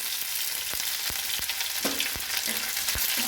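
Green chili, bay leaf and a little garlic frying in oil, a steady close sizzle broken by several sharp utensil knocks against the pan as the mix is stirred.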